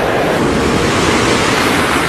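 Recruits jumping into a military combat-diver training pool, heard as a loud, continuous rush of splashing and churning water filling the whole clip, with no voices.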